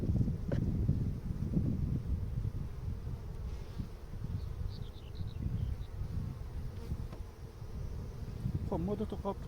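Dense, steady droning buzz of many honeybees crowding over fresh nectar at an open beehive, close and continuous, with brief wind rumble against the microphone and no talk.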